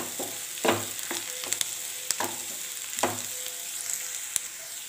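Onions sautéing in oil in a pan for a kappa kurma, just until their raw smell goes, a steady close sizzle broken by several sharp scraping stirs of a spatula.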